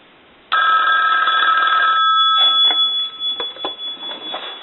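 The mechanical bell of a Western Electric 554 rotary wall telephone rings loudly for about a second and a half, then stops, followed by faint clicks and handling noises.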